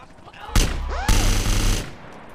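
Sniper rifle fire in a video game: two loud, booming shots about half a second apart, each ending in a long ringing tail, with a brief rising electronic whine between them.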